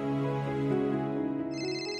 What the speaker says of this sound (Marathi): माझा फोन वाजतोय.